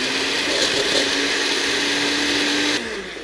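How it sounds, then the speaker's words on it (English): A blender whirs loudly and steadily as it blends frozen bananas into a one-ingredient ice cream, then its pitch drops abruptly near the end as the motor slows. "I'm going to take my frozen bananas and I'm going to put them in my blender"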